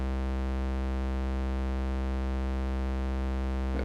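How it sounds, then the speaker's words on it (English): A saw and a square oscillator combined on Ableton's Analog synth set up to emulate a Korg MS-20, holding one steady, loud, buzzy sustained tone that stays unchanged throughout. "here we have a saw combined with the square"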